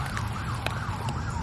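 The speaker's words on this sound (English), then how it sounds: "Sorry about the siren." An emergency siren wails steadily in the middle distance, its pitch sweeping up and down throughout, heard outdoors in a garden during an end-of-August harvest after a storm.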